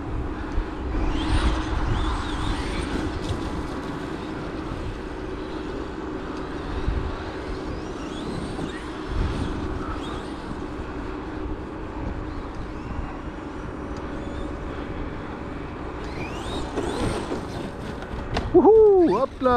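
A Traxxas XRT RC truck on Sledgehammer tires runs its electric motor in bursts of throttle outdoors, a whining buzz rising and falling at a moderate distance, with a louder surge near the end.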